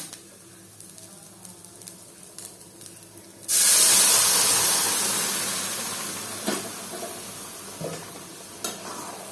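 Hot tempering hits a pot of Odia dalma with golden-brown onions, bursting into a loud, sudden sizzle that hisses on and slowly fades over several seconds, with faint clinks of stirring.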